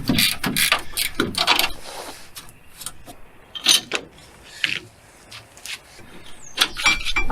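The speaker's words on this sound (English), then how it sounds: "put yourself some vice grips right on top of that bolt that's rounded off, and then you just take it off like a standard bolt" Vice grips clamp and work a rounded-off bolt on an S10 pickup's rear axle during a pinion angle shim job, giving loud, close metallic clicks, ratcheting and clanks in irregular bursts with quieter gaps.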